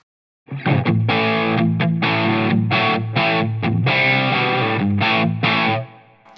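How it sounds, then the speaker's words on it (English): Distorted electric guitar chords strummed in short bursts with brief gaps, sounding muffled and bass-heavy, as if the bright treble were missing, played through a Line 6 Powercab's low-frequency woofer alone with no processing. "just the low frequency driver or the woofer"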